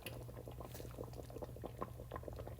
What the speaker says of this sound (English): So we're going to bring this to a boil.